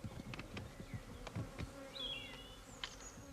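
Honeybees buzzing around their hives, a faint outdoor hum with several insects darting close past and away, brief rising and falling buzzes over quiet background.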